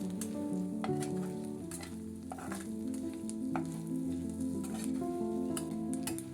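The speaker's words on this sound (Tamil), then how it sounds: "இப்போ 2 நிமிஷத்துக்கு அந்த எண்ணெயிலேயே அந்த மசாலா கூட அந்த கருவாடை நல்லா வறுத்துக்கணும்." Dried anchovies frying with masala in oil in a pan, a continuous soft sizzle with scattered crackles and occasional stirring scrapes, close but fairly quiet, no voices.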